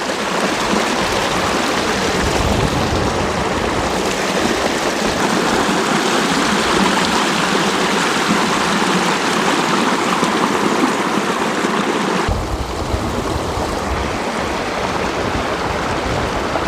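A mountain river stream splitting into two channels, rushing loudly and continuously nearby as a steady roar of flowing water, with no talk.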